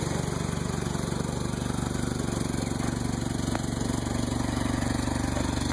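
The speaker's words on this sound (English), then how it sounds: "It has a new muffler on it, but I don't know if it's sealed up perfectly or not, but it doesn't sound bad." A 1988 Toyota truck engine with a new muffler idles steadily at close range, a constant low rumble with an even exhaust pulse throughout and no talk.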